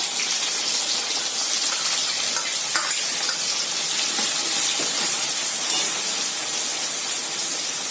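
Chopped onion hits hot oil in a pan for a toor dal and drumstick curry, setting off a loud, steady hissing sizzle that carries on without a break.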